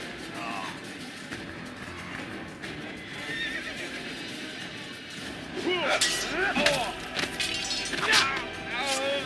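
A horse neighs loudly several times in the Assassin's Creed video game, over a dense bed of game noise with hoof and combat sounds, while someone talks throughout.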